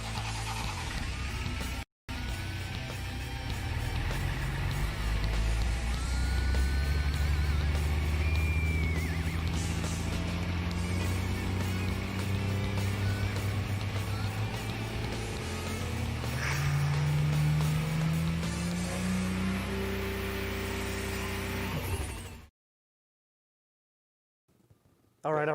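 A truck engine idles and revs in a loud, continuous rumble with shifting pitch as the throttle rises and falls, then cuts off abruptly near the end.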